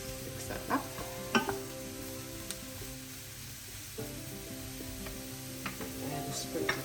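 Mushrooms sizzle in a frying pan as they are stirred, with a steady close hiss broken by scraping clicks from the utensil against the pan.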